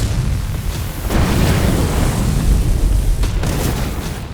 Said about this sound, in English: It's going to be a massive explosion.